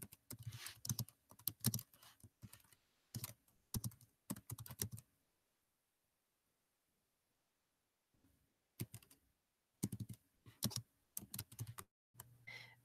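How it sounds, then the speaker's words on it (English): Typing on a computer keyboard comes in bursts of quick, close clicks, with a long quiet pause in the middle before the keystrokes resume. "And then I'm going to start typing down here."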